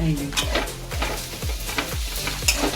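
Vegetables frying in a pan sizzle steadily while a utensil stirs and scrapes in quick repeated strokes, close up with faint background voice.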